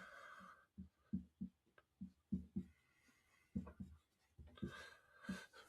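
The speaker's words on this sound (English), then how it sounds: "Let's write it down." A pen writes notes by hand with a series of short, distinct scratching strokes in an irregular rhythm, heard close but quietly, with light breathing and no speech.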